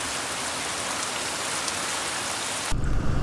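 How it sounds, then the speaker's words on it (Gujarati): Heavy monsoon rain pours down during a motorbike trip, making a dense, continuous hiss that swells into a louder, rougher rush near the end. "તો ભાઈ વરસાદ તો ઊભું રહેવાનું નામ નથી લેતો"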